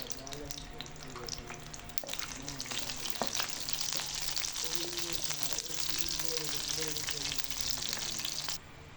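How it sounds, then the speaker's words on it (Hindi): Dried red chillies and cumin sizzle in hot ghee for a tadka, a loud continuous crackling fry with stirring scrapes and someone speaking over it before it cuts off abruptly. "5 से 6 अदद हम खुश्क लाल मिर्च शामिल करेंगे। आधा चम्मच हम सफ़ेद ज़ीरा का शामिल करेंगे।"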